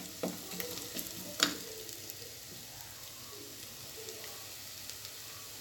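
Ingredients for a tomato fish curry, made without tamarind, frying and browning in a pan with a steady soft sizzle and hiss, a few faint stirring knocks near the start.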